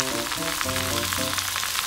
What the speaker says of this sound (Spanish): Voy a escuchar que sigue hirviendo el agua.